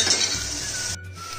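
Tomatoes and onions frying in oil for restaurant-style dal makhani, a short close sizzle with a metallic clink and scrape of a stirring spoon against the pan.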